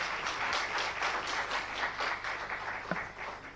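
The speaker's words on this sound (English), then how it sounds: "Let's have a round of applause." Conference audience clapping after a presentation at a national meeting on lesser-known species, a moderately distant, steady patter of many hands continuing for several seconds.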